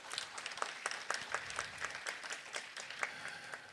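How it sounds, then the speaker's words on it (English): Audience applause fills a hall at the opening ceremony of International Construction Week Borneo 2025, a dense, steady patter of many hands clapping, heard somewhat distant and moderately soft. "please give them a big round of applause"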